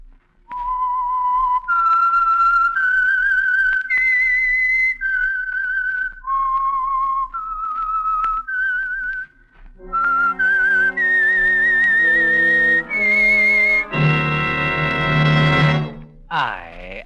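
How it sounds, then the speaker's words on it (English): A human whistler performs the radio program's signature tune, a clear melodic phrase of sustained notes rising and falling, followed by a lower accompanying section with a brief sustained chord near the end. "the signal to listen for is this whistle that identifies the Signal Oil program, The Whistler"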